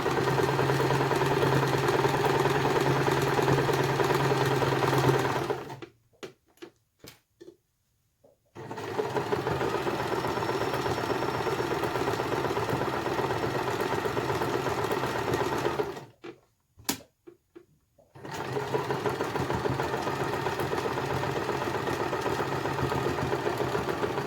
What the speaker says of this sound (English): Secure with a few reverse stitches.